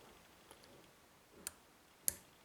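Lock pins clicking as a CISA AP3 lock is picked, three faint, sharp, isolated clicks spaced apart, the last one the loudest, with quiet between them.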